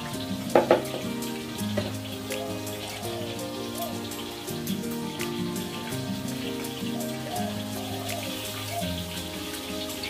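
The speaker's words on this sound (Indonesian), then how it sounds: "Kita tunggu ikan masak." Tilapia simmering in a pan for a coconut-milk curry with belimbing buluh, a soft, steady bubbling and sizzling crackle with a few louder pops at the start, heard close and without talk.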